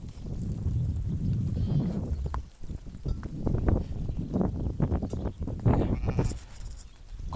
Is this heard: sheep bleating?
yes